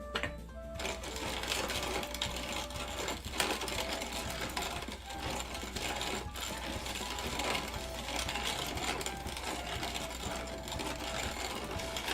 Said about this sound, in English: It is a hand crank mill.